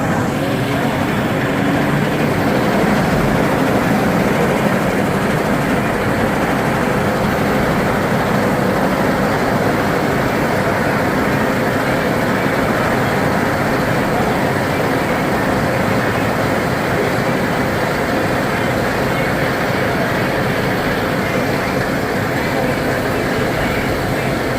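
Blue Titan roller coaster train at Six Flags Over Texas climbing the lift hill, a steady loud rumbling mechanical drone with chain clatter, continuous and without talking.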